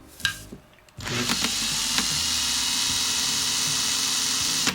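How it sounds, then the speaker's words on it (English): A cordless drill clamped to a desk spins a clock wheel held in its chuck like a makeshift lathe, giving a steady, close whirring hum that starts abruptly after a brief handling knock and runs on evenly. "We'll use our cordless drill as a makeshift lathe."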